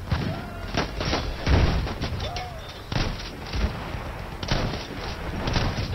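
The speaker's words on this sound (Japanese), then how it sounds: "強いよ、このショットガン。" Repeated heavy booming slug shotgun blasts in Battlefield 1, several loud thumping shots spaced irregularly over constant background noise.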